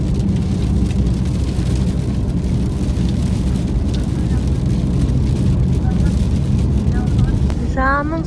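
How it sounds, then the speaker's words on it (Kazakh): Heavy rain pours steadily on an overcast afternoon in a city, a dense, unbroken hiss heard from close by, with a muffled rumble beneath and a brief high squeak near the end. "Ал жаңбыр құйып жатыр."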